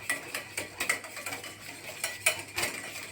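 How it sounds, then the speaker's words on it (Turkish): A metal whisk beats a marinade mixture for oven-baked sauced chicken in a bowl, giving quick rhythmic clinking strokes, close and fairly crisp, with no talking. "Şu şekilde harcımızı hazırlayalım bir çırpıcı yardımıyla."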